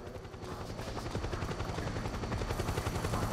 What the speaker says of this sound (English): the helicopter being this loud